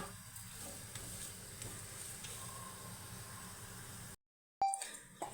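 A ragi methi paratha fries in oil on a pan with a steady, soft hiss and sizzle. The hiss cuts out briefly near the end and returns louder.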